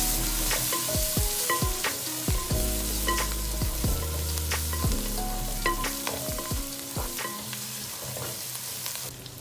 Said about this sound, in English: Then add chopped tomatoes, mix it well, saute till they turn pulpy.